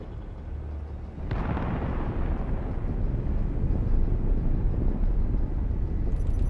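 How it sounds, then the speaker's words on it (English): Torpedoes launch and detonate in a space combat video game: a sharp blast opens into a dense, steady roaring rumble that carries on loudly without any voices. "Torpedo is firing."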